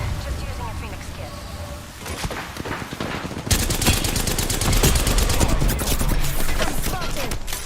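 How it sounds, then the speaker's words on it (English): Rapid gunfire in a shooter video game, bursts of automatic fire that grow louder and denser partway through, with a voice speaking over the shooting. "I am taking fire."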